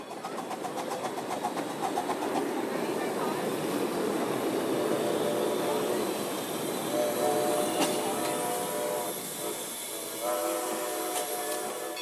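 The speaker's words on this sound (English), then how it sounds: "there's also a scale railroad that's popular with the kids, pulled, of course, by a real scale steam locomotive" A real scale steam locomotive pulls a scale railroad train for kids on the Strasburg Railroad, giving a steady hissing, clattering run with tonal whistle-like lines, heard at moderate distance for about twelve seconds.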